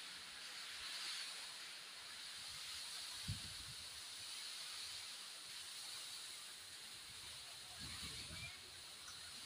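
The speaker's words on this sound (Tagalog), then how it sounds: "biglang lumakas yung ulan at hangin" Steady broadband roar of heavy typhoon rain and gusting wind during Typhoon Odette, constant and enveloping, with a couple of brief low thumps partway through.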